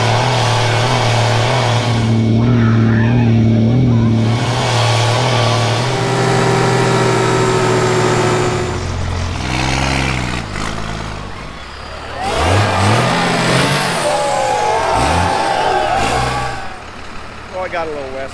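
An off-road tow truck engine revs hard and loud, rising and falling through several surges before settling, with people talking over it.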